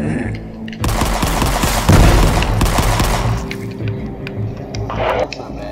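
Rapid semi-automatic gunfire from a weapon in the retro shooter Forgive Me Father, a loud burst of closely spaced shots for several seconds with no talking.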